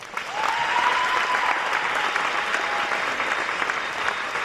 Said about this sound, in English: So let's give them one more applause.